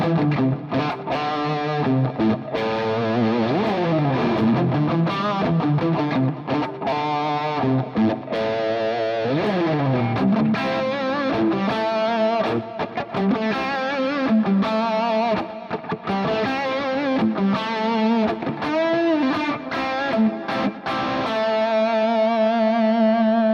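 An electric guitar plays a sustained, singing lead line with a distorted crunch tone from a Fractal Audio FM3 using a Boxel Crunch drive, with bends and legato phrases running continuously and no talking.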